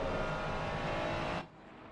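Ferrari GT3 race car engine in a racing video game at Circuit of the Americas, a loud, continuous roar that drops off sharply near the end and leaves a quieter hum.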